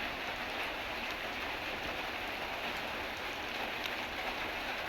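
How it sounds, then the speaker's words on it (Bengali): Steady rain falls outside during a morning meal, a dense, even hiss of drops that holds at a constant level throughout, with no voices. "বৃষ্টি পড়তেছে।"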